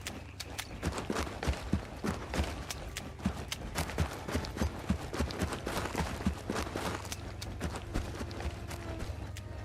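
Loud footsteps stomp across dirt in the survival game Bellwright, a rapid, steady run of heavy thudding steps close by, continuing for the whole stretch over a low rumbling background.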